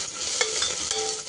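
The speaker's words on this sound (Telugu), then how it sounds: "ఉల్లిగడ్డ, ఆవాలు, జీలకర్ర, ఎండుమిరపకాయ, మెంతెం కూర వేయించాలండి" Onion, mustard seeds, cumin, dried chillies and fenugreek fry in hot oil, a steady close sizzle with a couple of quick stirring scrapes over the brief moment.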